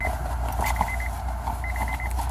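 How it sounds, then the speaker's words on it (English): Repeated electronic beeping in two bursts of rapid, evenly spaced tones over a steady low rumble, like a vehicle's warning alarm in the background. "Does this beeping go on the whole video?"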